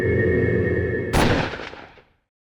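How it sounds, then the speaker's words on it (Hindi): A single loud gunshot cracks sharply after a droning tone and then rings out in a decaying tail that fades to silence within about a second. "गुस्से में गोली चल गई"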